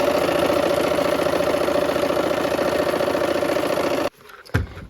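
Sewing machine stitching fabric pieces for a quilt, a loud steady motorized whir running close for about four seconds before it stops abruptly, followed by a short knock.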